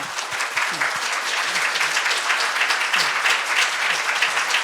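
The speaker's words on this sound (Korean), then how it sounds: "우리 큰 박수로" Audience applause for the speakers at a Korean symposium on healthy ageing, sustained even clapping from a sizeable crowd in a hall, with no voices over it.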